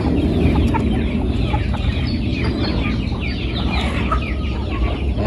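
A dense crowd of chickens clucks continuously in a poultry farm, many overlapping calls close and loud throughout, with no pauses.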